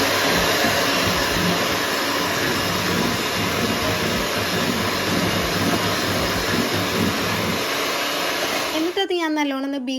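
An electric mixer whirs steadily and loudly as it beats chocolate with whipped cream, running without a break until it cuts off near the end, when a voice briefly speaks.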